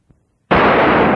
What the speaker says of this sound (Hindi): इन्होंने गोली मार दी हजूर